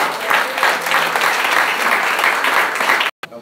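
A church congregation applauding during a Saturday worship service, loud sustained clapping from many people that breaks off abruptly near the end.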